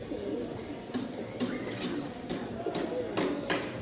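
A pair of Rajshahi fancy pigeons coo softly and repeatedly at close range, a low murmuring call under faint background noise and brief rustles.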